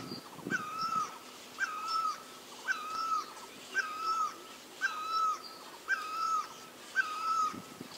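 Owls calling in a steady repeating series, roughly a dozen harsh, ringing calls spaced evenly about half a second apart, moderately loud and fairly close, with no voices.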